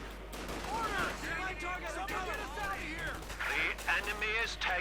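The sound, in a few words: infantry gunfire in Company of Heroes 2 video game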